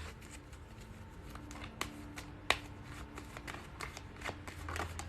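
Tarot cards being shuffled and drawn from the deck, a steady close papery riffle and slide broken by a few sharper snaps as cards flick out, with no talking over it.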